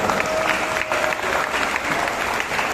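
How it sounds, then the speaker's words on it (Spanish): Sustained audience applause at a tribute ceremony, steady dense clapping throughout at an even level, with a faint tone running under it. "Vamos a dar un fuerte aplauso."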